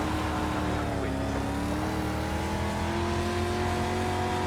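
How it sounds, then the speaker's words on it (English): Race car from a racing video game speeds past on the outside: a loud, continuous engine whine with a gently shifting pitch over steady road roar, close and unbroken, with no voices. "Here's a leader speeding by on the outside."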